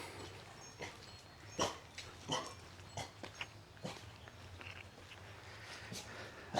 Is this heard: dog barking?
yes